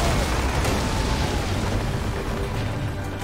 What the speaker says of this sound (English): Our catapults will fire upon your order.